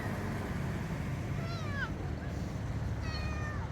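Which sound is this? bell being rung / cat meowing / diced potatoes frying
cat meowing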